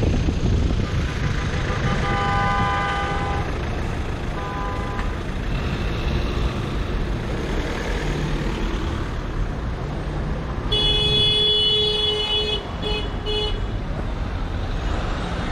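Car horns honk repeatedly over a steady roar of traffic in a jammed city street with a police car stuck among the vehicles, short toots early on and a longer, louder run of overlapping blasts toward the end.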